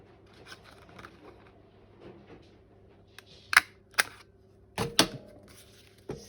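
Scissors snip through a piece of cardboard during a craft session, a handful of sharp, crisp cuts in quick succession after a quiet stretch of soft handling noises.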